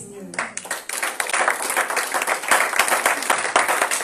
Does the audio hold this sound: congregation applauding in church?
yes